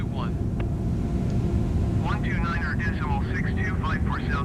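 An Airbus A321neo in Microsoft Flight Simulator rolls for takeoff, a steady loud low engine roar filling the whole span while radio-style voices talk over it.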